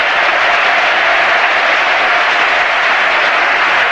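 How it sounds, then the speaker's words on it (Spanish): A packed stadium crowd at a 2002-2003 La Liga match between Real Madrid and Athletic Bilbao roars and applauds in a dense, unbroken wash of noise as the Madrid captain Hierro is sent off with chants of his name. "Al grito de Hierro, Hierro despide al capitán madridista"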